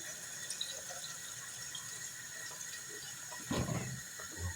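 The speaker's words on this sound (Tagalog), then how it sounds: "ito ang tubig nating mainit" Quiet running hot water splashes into a pot for arroz caldo, a steady trickle that turns into a brief, fuller pour near the end.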